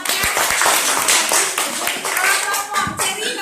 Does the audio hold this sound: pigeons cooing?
no